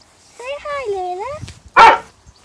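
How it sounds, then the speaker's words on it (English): A pug gives a drawn-out whining, yowling vocalization with a wavering pitch, then one sharp, loud bark close to the microphone, indoors with no one speaking. "Oh, she's a dog."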